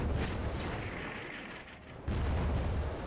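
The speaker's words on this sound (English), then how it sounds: "Detonated internal fuel cells" Fuel cells detonating in the Superman: Shadow of Apokolips video game, a sustained roaring blast of explosion rumble that dips briefly and then surges back loud, with no talk over it.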